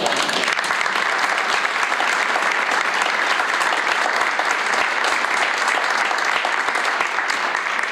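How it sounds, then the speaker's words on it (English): Steady, dense audience applause fills the whole stretch for a couple married 61 years and living in Rehoboth Beach, Delaware, a crowd clapping together without pause at fairly even loudness. "So give a round of applause."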